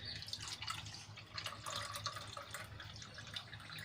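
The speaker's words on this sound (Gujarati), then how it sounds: "એમાં આપણે છાશ એડ કરી લઈશું" Green masala buttermilk poured into two glasses, a soft trickling liquid splash with small drips, quiet and close, with no talking.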